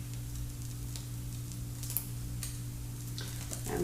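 Savoury French toast fries in a pan, its liquid giving a soft, faint sizzle with a few scattered pops over a low steady hum.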